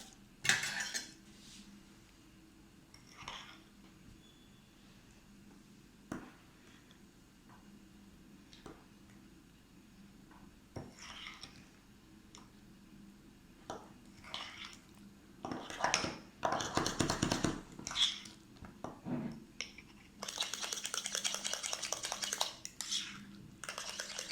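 A spoon works through pomegranate-flavoured shrikhand cheesecake mixture in a bowl, giving quiet scattered taps and scrapes that build into faster, louder clinking against the bowl toward the end.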